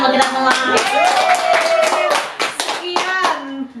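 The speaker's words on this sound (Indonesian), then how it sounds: "tepuk tangan buat kita semua" Short burst of clapping as a podcast wraps up, several hands clapping close by for a few seconds while voices talk over it.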